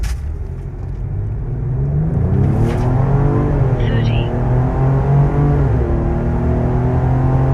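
A Ford Explorer Tremor with a 3-liter twin-turbo V6 accelerating hard, a loud rising engine drone heard from inside the cabin with gear shifts, while a person talks over it.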